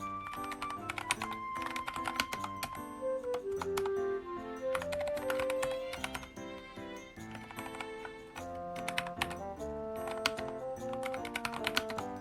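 Typing on a compact, low-profile Nuphy Air 60 mechanical keyboard: a steady run of keystrokes clatters for about twelve seconds under prominent melodic background music, with no talking.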